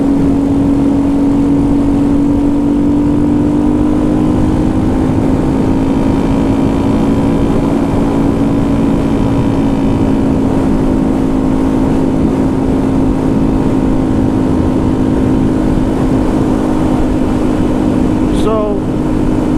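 Honda Grom motorcycle on a ride, its small engine droning steadily at a near-constant pitch throughout, loud and close with heavy wind rumble and a slight rise in revs midway.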